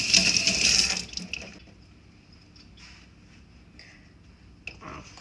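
Tap water runs from a faucet for about a second to wet dumpling dough in a kitchen, loud and close, then gives way to quiet handling sounds and a soft clink.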